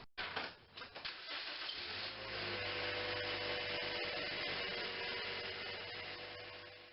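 A 2010 Toyota Corolla 1.8L engine cranks briefly with a new starter, catches and settles into a steady idle, close and loud with no voices.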